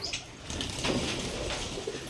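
Giribaz pigeons coo close by in a low, throaty, repeated rumble that carries steadily through the short moment without any talking.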